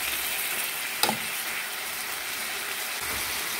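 Bitter gourd (ampalaya) fries in a pan with a steady, even sizzle throughout. A single clack of the spatula against the pan marks a stir.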